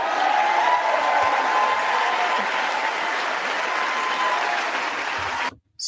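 Steady, dense applause from a large crowd fills the room for several seconds, then cuts off abruptly.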